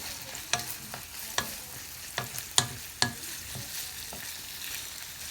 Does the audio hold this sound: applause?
no